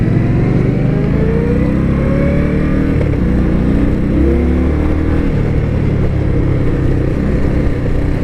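Several 2023 Indian Scout Bobber motorcycles ride together in a loose group formation. Their engines make a loud, continuous drone with shifting throttle, mixed with heavy wind rush, close and steady throughout.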